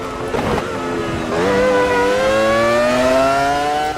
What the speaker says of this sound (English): The glorious V10, which in my opinion is the sound of Formula 1.